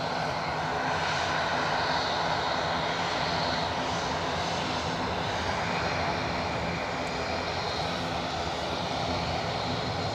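A United Boeing 757 airliner at Edinburgh Airport roars steadily and loudly throughout, a broad continuous engine rumble with no voices over it.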